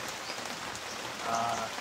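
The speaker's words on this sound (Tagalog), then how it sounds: "ngayon lang kaya naabutan kami ulan" Steady rain patters on a surface, a continuous hiss of drops with a slight swell toward the end.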